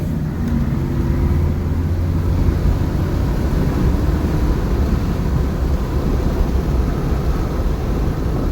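A GMC 2500HD pickup truck on a test drive, its engine and road noise forming a loud, continuous low rumble heard from inside the cab without letup.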